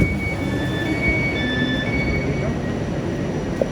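Train rumble at a Glasgow railway station, a steady loud roar with faint wheel squeal tones and no talk.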